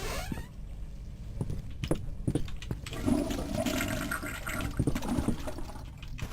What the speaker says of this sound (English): Does this have a suite of things that I can flush down the toilet?